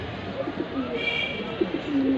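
A big-sized pair of racing pigeons coo softly nearby, with a few low, throaty, drawn-out calls over faint background noise.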